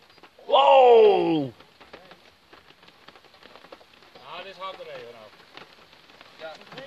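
Heavy warm rain pours during a thunderstorm chase in Brabant, giving a steady hiss and patter. A loud vocal outburst rises over it, followed by people talking close by.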